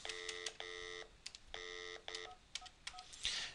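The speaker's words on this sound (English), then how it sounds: "I'm dialing into the OpenVoice system at this point." Telephone dialing tones on a speakerphone calling into an OpenVoice system: a rapid series of clear electronic beeps, some short and some held, played close and evenly in a quiet room.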